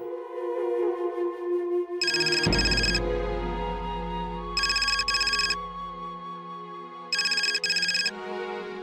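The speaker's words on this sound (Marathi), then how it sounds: "जय वहिनींचा फोन आहे." A phone rings in three bright electronic bursts at a steady interval, over a soft musical background in a Marathi TV serial.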